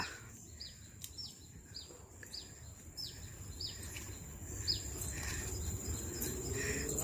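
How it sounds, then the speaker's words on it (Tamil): Sparrows chirp in Admiralty Park. Short, high, faint chirps repeat at a steady pace from some distance over a soft outdoor background hush. "சிட்டுக்குருவிங்க அது இதுன்னு கத்திக்கிட்டே இருக்கு"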